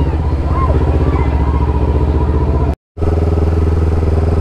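A loud campaign motorcade of motorcycles and cars rumbles past in Calatagan, engines droning steadily up close with a brief cutout partway, then the roar resuming.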